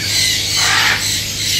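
Birds at a Baghdad bird market in the Adhamiyah district, a dense, continuous high-pitched squawking and chirping chorus that swells and fades, loud and close.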